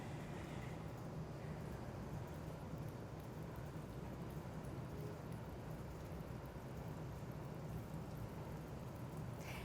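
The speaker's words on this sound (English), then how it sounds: "So I'm going to once again kind of put the rain through the rainmaker" Simulated rain falls from a rainmaker demonstration device onto a stormwater runoff model, giving a faint, steady, dense hiss of water that runs unbroken from start to finish with no talk over it.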